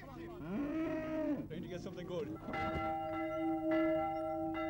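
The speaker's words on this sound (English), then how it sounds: "Bells are booming down the boreens" Church bells ring out at a 1971 Irish country fair day, mingled with cattle lowing nearby, a busy outdoor livestock-market scene with sustained tolling tones.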